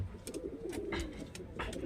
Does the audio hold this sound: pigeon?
yes